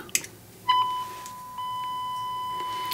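A steady 1000 Hz, 0 dBu test tone passes through a DIY Sound Skulptor MP573 preamp. It comes as a pure sustained beep that starts briefly, drops out, then returns and holds steady, with a few faint clicks at the start.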